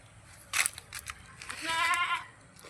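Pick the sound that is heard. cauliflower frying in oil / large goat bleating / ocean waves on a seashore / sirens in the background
large goat bleating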